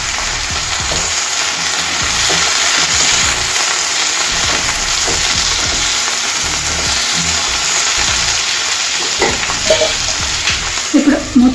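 Onions, tomatoes and curry leaves fry in a pan, a loud, close, continuous sizzle with stirring scrapes, and a few sharper clatters of spoon against pan near the end.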